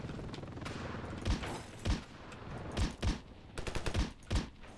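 Bursts of video-game gunfire from a gun in Ravenfield: several sharp, loud shots spaced irregularly over a steady background din, with a quicker cluster of rapid shots near the end.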